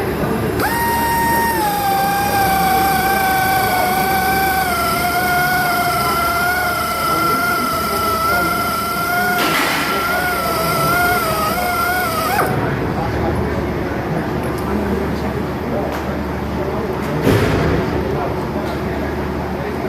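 A tire buffer spins at low speed on the inner lining of a tire being prepared for a patch-plug repair, a loud rising whine with a steady pitch that cuts off midway, while a person talks over it.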